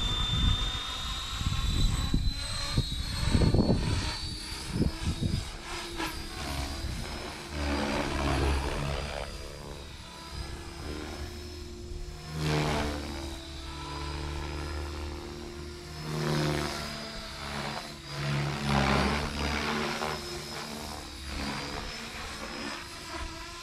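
A stock Blade Fusion 360 Smart RC helicopter on a 4S battery with an 11-tooth pinion flies with a continuous whining rotor and motor drone that rises and falls as it maneuvers, with sharper bursts near the start.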